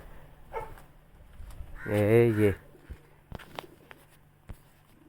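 Pigeons coo in a short, low, throbbing burst, with faint rustling and bird movement around it and a voice murmuring in the background.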